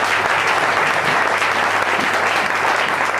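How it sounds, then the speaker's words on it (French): Church congregation applauding during a service, a dense, even burst of clapping from many hands that fills the whole moment without a pause. "Acclamez pour l'éternel."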